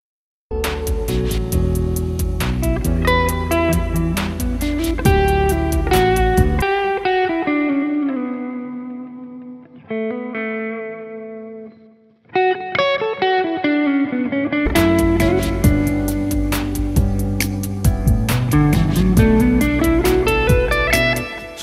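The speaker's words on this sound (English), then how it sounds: "let me check out the guitar solo and make sure it's working with that." Distorted electric guitar solo treated with Logic ChromaVerb reverb, loud sustained bends and runs that drop to a sparse phrase with reverb tails ringing out before the full band returns.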